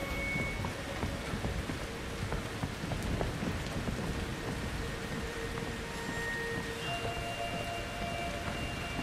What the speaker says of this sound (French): J'ai pas tellement envie de rester sous cette pluie, vous voyez.